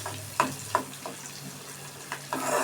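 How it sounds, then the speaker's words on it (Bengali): A spatula stirs dried loitta fish with green chilies and onions frying in a pan, making scattered scrapes and taps over a soft steady sizzle, close and fairly quiet. "4টা কাঁচামরিচ, ভালোভাবে নাড়তে থাকি।"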